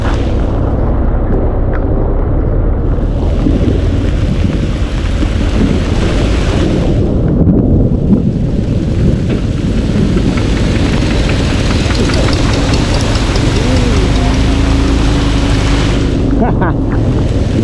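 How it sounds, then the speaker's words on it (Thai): Heavy rain while riding a motorcycle, a loud dense roar of rain and wind buffeting mixed with engine drone, continuous for the whole stretch with a voice occasionally heard. "ฝนตกขี้หมูไหล"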